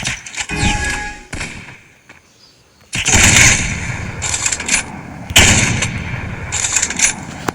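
Counter-Strike gunfire in loud bursts, with single shots and rapid volleys and quieter gaps between them, close and sharp with no speech.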